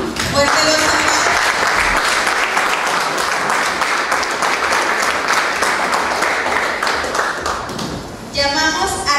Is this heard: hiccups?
no